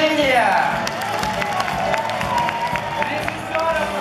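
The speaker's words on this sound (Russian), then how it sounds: "Давайте громкими аплодисментами поблагодарим артистов за прекрасные" Audience applause and cheering for performers at a Tatar-language final concert, a steady wash of clapping throughout with a voice speaking over it at the start.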